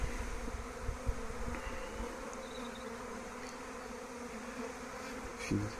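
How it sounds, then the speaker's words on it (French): A freshly issued honeybee swarm at an apiary fills the air with a steady, dense buzzing, close and all around, with individual bees passing nearer at moments. "C'est la première fois que je suis au milieu d'un essaim qui vient d'essaimer."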